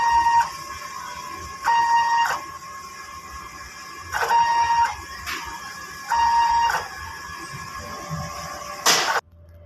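A DTF printer runs a head-cleaning cycle: repeated electronic whines and buzzy motor bursts in short spaced pulses, ending with a brief louder burst then quiet.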